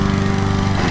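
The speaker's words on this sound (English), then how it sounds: "Excuse the lawnmower." Lawn mower engine droning steadily in Central Park, a loud, close, continuous buzzing hum for the whole second.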